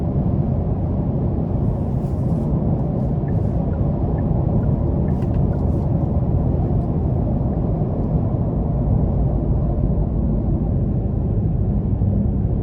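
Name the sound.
Genesis G70 2.5T car driving on the interstate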